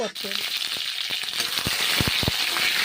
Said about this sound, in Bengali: পটলগুলো এখন আমি ভেজে নিচ্ছি